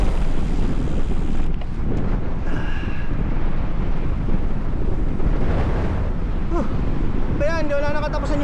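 Strong wind roars into the microphone throughout a boat ride, a constant loud rush with people talking underneath.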